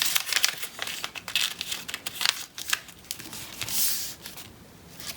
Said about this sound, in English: Bring one flap down. And fold over and tuck under.